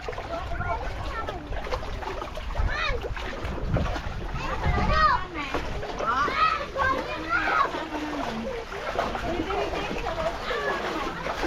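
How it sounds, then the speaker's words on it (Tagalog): People bathing and splashing in water at a crowded swimming spot, with continuous splashes under lively overlapping voices, children calling and chatter throughout. "marami na naliligo dito"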